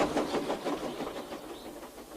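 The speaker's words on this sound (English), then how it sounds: "watch the trains rushing through the other tunnel" Trains rush through a tunnel in a Thomas & Friends TrackMaster remake scene, giving a steady, muffled rolling rumble with faint rhythmic clatter that slowly fades, with no voices.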